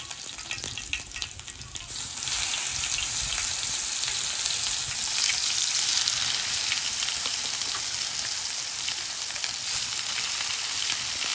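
Garlic hits hot oil in a home kitchen while fish fry is prepared, bursting into a loud, steady sizzle that holds without pause, with faint stirring in it.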